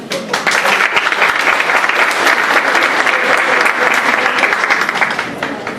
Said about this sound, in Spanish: Un aplauso por ahí.